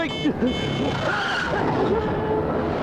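A car skids on a road with a screeching tire squeal under a dramatic film soundtrack, with voices speaking over it; the skid is loud and close, then settles into engine and street noise.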